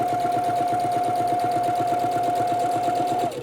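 A sewing machine stitches across quilt fabric for a snowball block, running at a steady, even whir close by before stopping abruptly at the end.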